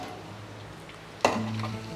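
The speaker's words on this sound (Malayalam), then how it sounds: "ഞാൻ അതിനകത്തേക്ക് ഈ നനച്ച് വെച്ചിരുന്ന മുളക് പൊടി ഇട്ടു" Soaked chili powder hitting hot oil in a pan for a Kerala Christian-style fish curry: quiet low hiss at first, then a sudden loud burst of sizzling that settles into a sustained fry.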